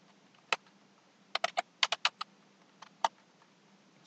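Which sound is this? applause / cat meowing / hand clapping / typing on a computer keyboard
typing on a computer keyboard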